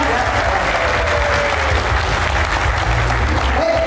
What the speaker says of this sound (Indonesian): kita berikan tepuk tangan yuk buat Bapak direksi semuanya